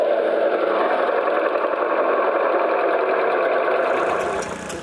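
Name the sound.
two-cylinder engine of a 1953 Lanz Bulldog Model S tractor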